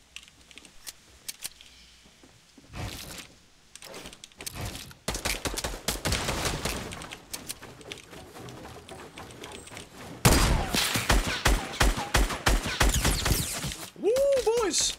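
A video game shootout brings rapid bursts of gunfire that build into dense, loud automatic fire during a late-game fight, with a player talking over parts of it.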